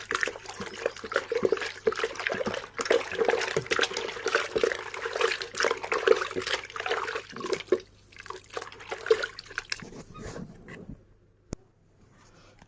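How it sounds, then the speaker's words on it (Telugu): Mixed tamarind juice poured into a pot of village-style fish curry, a soft continuous liquid splashing and trickling with small drips and handling clatter, tapering off toward the end. "ఇలా కలుపుకున్న రసాన్ని కూడా మనం ఇలా పోసుకుందామండి."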